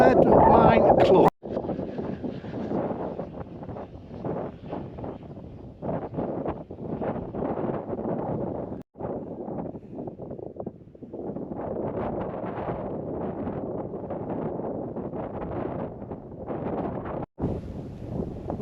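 Wind buffets an unshielded microphone with no muffler on open moorland above Chorley, a steady low roar with gusty surges running almost throughout, under and between a man's speech.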